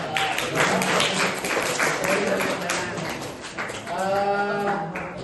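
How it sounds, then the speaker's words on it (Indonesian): A class claps for a student group after a peer-teaching presentation, steady dense clapping throughout with some voices and tonal sounds rising near the end. "Tepuk tangan buat kelompok 2."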